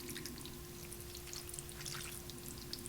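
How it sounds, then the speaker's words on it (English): Water is poured into a casserole dish for a wild rice casserole, making a steady close splashing trickle that runs evenly throughout with no talking. "add enough water to cover"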